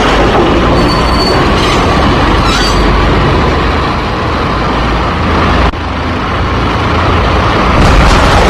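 A train in the Max Payne video game rumbles loudly and steadily. Its wheels squeal in high tones near the start and the rails clack rhythmically, with a brief dip partway through.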